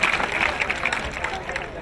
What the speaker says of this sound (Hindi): तालियां बच्चों जोरदार से।